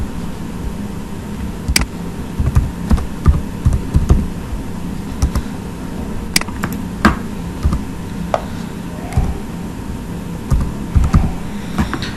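Someone types a name on a computer keyboard, producing irregular bursts of close, crisp key clicks with short pauses between words over a faint steady hiss.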